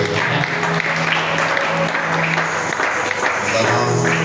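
A French-speaking church congregation applauds and cheers the Lord in a sustained, dense wave of clapping that holds at an even level throughout, with voices mixed in beneath it.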